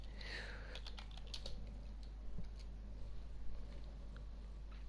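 Typing on a computer keyboard: quick, light key clicks that come in short runs, faint under a steady background hum.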